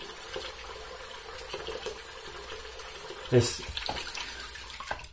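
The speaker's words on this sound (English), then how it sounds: "I'm gonna rinse off just ever so slightly." Tap water running while a razor is rinsed at a sink, a short low splashing stream with a brief louder gush, under a voice.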